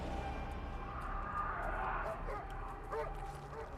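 A dog yips and whimpers in a short series of high, excited barks amid a busy, noisy background, with a voice talking over it.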